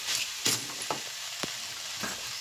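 Cumin seeds sizzle in hot oil with a bright, steady crackle up close, broken by a few light knocks of a stirring spoon against the pan.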